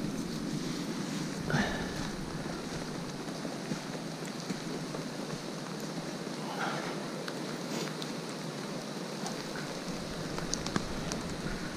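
Steady rain falls by the Kema river in the taiga, a constant soft hiss with a few faint taps and no voices, close and even throughout.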